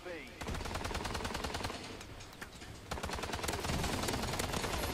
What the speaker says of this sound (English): It's so hard to get kills with a freaking like machine gun